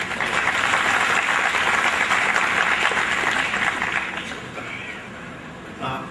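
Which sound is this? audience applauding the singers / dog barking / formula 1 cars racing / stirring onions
audience applauding the singers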